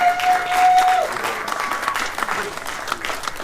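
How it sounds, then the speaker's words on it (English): An audience breaks into applause, a dense wash of clapping from a crowd that holds steady for a few seconds and then thins out slightly, with a brief tone at the start. "So give him a round of applause, please."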